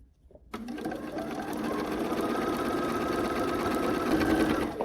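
A sewing machine runs steadily for several seconds, stitching a quilt seam on a quarter-square triangle unit, giving a close, continuous mechanical whir after a brief start.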